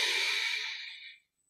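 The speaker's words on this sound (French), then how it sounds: "Double respiration, les paumes ensemble." A single long exhalation during a double-breathing yoga meditation exercise, a soft airy rush that fades out after about a second, close and alone.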